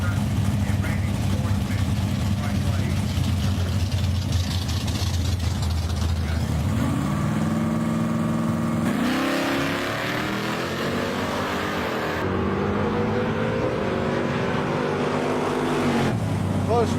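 Big-block Ford drag racing cars stage at the start line, their engines rumbling loudly and revving in rising, falling sweeps, with a steady roar throughout.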